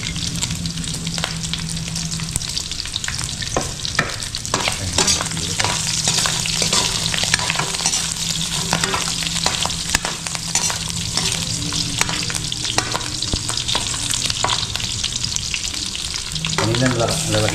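Pork pieces fry steadily in their own rendered fat, a loud, dense, continuous sizzle with crackling pops throughout and occasional stirring scrapes, close up with no voices.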